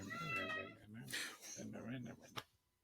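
Domestic cat meowing, harmonic mewing calls mixed in among people talking, ending with a brief sharp sound before quiet.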